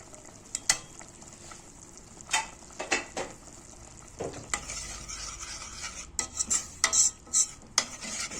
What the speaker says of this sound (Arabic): بعد ما الخضره بقى اتشوحت شويه في قلب الزيت